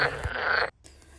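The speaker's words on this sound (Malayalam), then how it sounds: "ഈ തവളയുടെ കരച്ചിൽ കേട്ടിട്ടാകാം കുറച്ച് ദൂരെ മാറിയിരുന്ന് മറ്റൊരു തവളയും കരയുന്നുണ്ട്" A brief, loud frog croak close by at a pond in Germany, lasting under a second, then quiet with faint background noise.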